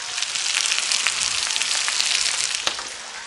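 Steady, crackling sizzle of meat frying in a hot pan with potatoes, loud and close, with small pops scattered throughout.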